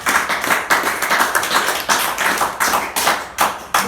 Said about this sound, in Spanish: Vamos a aplaudirlo otra vez.